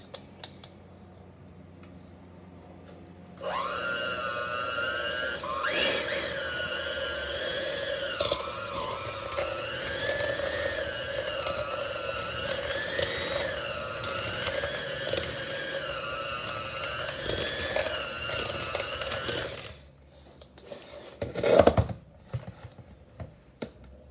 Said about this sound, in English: Now we're going to be using a hand mixer, but you can use any type of mixer that you would want.